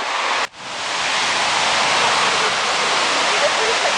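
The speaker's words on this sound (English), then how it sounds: "You can hear the waterfall from here." Waterfall at Ash Cave, a dense continuous roar of falling water heard from a short distance, broken only by one brief dip near the start.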